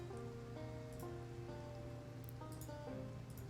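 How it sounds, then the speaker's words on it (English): Steady rain falls in the survival game Project Zomboid, a continuous even patter spread across the whole stretch with a low droning hum and faint tonal game music underneath. "it looks like our snow turned to rain"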